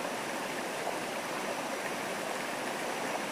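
A mountain river flows steadily nearby, a continuous broadband rush of water with no breaks, alone without voices.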